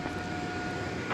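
A fixed-wing airliner at DFW Airport, heard as a steady broadband engine roar with a faint whine, constant and moderately distant throughout.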